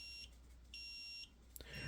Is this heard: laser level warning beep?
yes